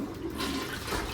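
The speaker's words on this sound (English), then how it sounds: "Will you flush it?" A newly installed toilet flushing, a short rushing burst of water, close and moderately loud, with no talk.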